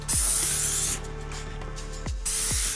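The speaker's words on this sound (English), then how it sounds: "what we're looking for is a fine, consistent spray pattern" A TensorGrip L42 canister nozzle sprays a fine fan in steady hissing bursts, the first long and loud, then a quieter stretch and a second burst, with a few soft clicks of the valve in between.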